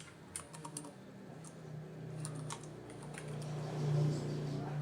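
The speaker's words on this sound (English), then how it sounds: "add in a title over here to our title slide and type in PowerPoint 2019." Someone types a title into a PowerPoint 2019 slide on a computer keyboard, a close run of quick, light key clicks that slows and gives way to low room hum near the end.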